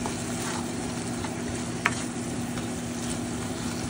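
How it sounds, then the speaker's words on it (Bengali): String beans masala sizzling in a pan while being stirred, a steady close frying hiss with one brief sharp scrape of the spoon, no voices. "আবার ভালো করে মিক্স করে নিচ্ছি।"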